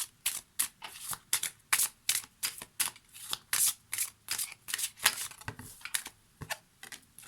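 Oracle cards being shuffled by hand in a steady run of crisp, riffling bursts, close and fairly loud, with no voices.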